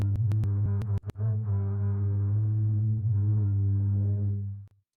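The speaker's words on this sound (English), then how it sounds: "Yeah, sounds like a cello." A low, sustained AI-generated cello tone with a few sharp clicks at the start, holding steady for several seconds before cutting off.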